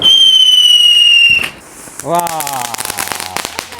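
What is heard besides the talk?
Diwali firecrackers bursting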